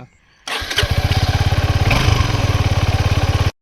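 A Suzuki Gixxer 250 motorcycle engine fires on the self-starter after a pause and settles into a steady, rapidly pulsing idle, loud and close, running alone for about three seconds before cutting off.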